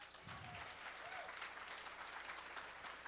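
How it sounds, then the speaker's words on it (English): Indoor audience at a roundtable event applauding the hosts, Mythic, a steady wash of many hands clapping that swells and holds, fairly faint and heard from a distance. "all of us owe a round of applause to our hosts"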